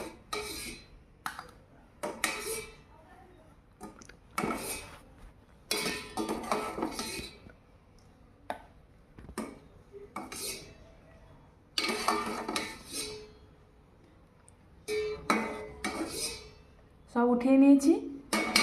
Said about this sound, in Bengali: এবারে চিনির রস থেকে সব একে একে উঠিয়ে নেব।